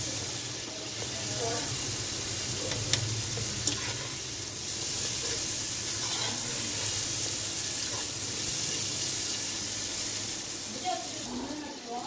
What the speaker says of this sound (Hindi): मसाले को 2 से 3 मिनट भूनेंगे